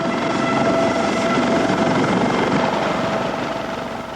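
A U.S. Coast Guard helicopter, valued at $1.5 million, roars steadily close by on a visit, its dense rotor and engine noise holding loud for the whole stretch before easing slightly at the end.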